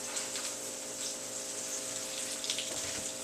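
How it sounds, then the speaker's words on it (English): Water runs steadily from a kitchen tap while hands are washed under it during home cooking of fried chicken, a constant hissing splash at moderate level with a few louder splashy moments as the hands move through the stream. "I'm going to have to wash my hands before I touch the camera."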